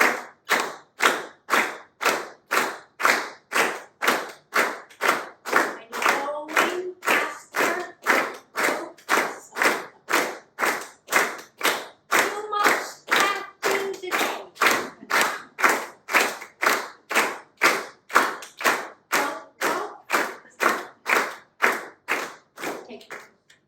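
Group of people clapping hands together in a steady, even pulse during a conducting exercise, dozens of crisp claps at a regular tempo with no talking.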